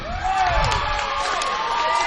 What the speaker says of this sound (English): A lot of cheering going on over here.